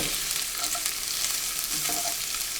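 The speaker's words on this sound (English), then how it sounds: "And then we're going to give this a really good mix." Garlic fries in a pan for chow mein while being stirred, producing a bright, close sizzle with scraping spoon movements running continuously for a couple of seconds.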